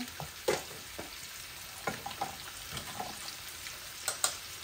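Dry red chili and a few bay leaves crackle and sizzle in hot oil for tempering, with sharp spattering pops over a steady low fizz, close and alone.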